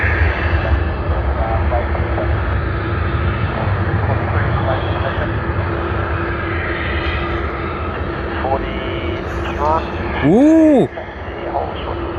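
A jet airliner taking off at Sydney Airport, its engines a steady loud roar throughout, with a brief rising whine near the end as a voice exclaims over it.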